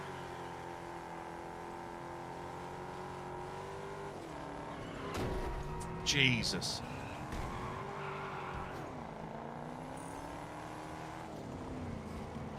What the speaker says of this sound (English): Hearing another modified car near me,